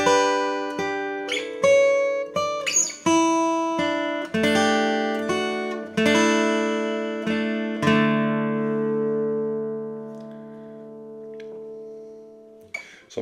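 Guitar without a capo plays the introduction to a song slowly, with single notes and D-shape chords ringing out, close and clear, ending on a long decaying chord.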